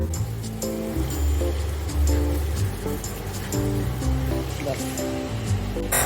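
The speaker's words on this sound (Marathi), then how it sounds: "आता आपण पाणी टाकूया" Water pours steadily into a hot pan of sautéed prawn and bombil curry with a rushing, hissing wash beneath a person talking close by.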